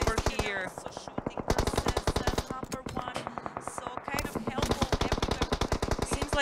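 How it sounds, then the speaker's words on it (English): Rapid automatic gunfire from a PUBG Mobile tier 1 scrim match, dense bursts of loud shots in fast rhythm with only brief pauses, continuing through the whole stretch. "Seems like they're shooting."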